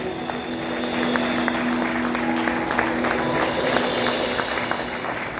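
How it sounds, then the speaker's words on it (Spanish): Church congregation at a Baptist service applauding steadily throughout, a dense, continuous wash of many hands clapping with a faint tonal hum underneath. "denle un fuerte aplauso al que vive"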